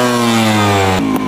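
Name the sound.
motorcycle engine revving during riding practice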